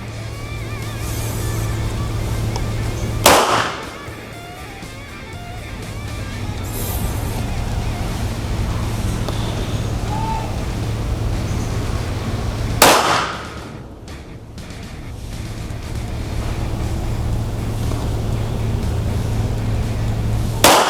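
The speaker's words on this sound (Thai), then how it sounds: "ตัวนี้จะทำการยิงทดสอบนะครับ ที่ระยะ 10 เมตร 5 นัดนะครับ" An HS SF19 polymer pistol fired in a test at 10 metres, heard as two sharp, loud, well-spaced reports about ten seconds apart over steady outdoor background noise.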